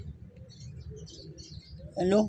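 Pigeons flutter and murmur softly amid a low rumble of rain, then a louder burst of cooing or calling comes in near the end.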